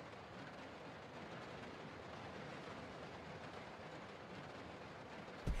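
Interior ambience of a moving train in the video game Resident Evil Zero, a steady low rumble with faint clickety-clack of wheels holding an even level throughout, no voices.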